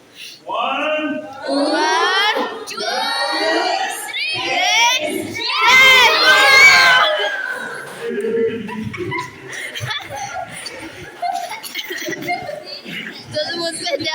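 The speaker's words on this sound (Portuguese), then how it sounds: "You parents, shout it like you're shouting at your children." A church congregation at a Baptist service in Gonçalves Dias shouts together in loud bursts that build to a roaring peak, then fades into laughter and scattered chatter.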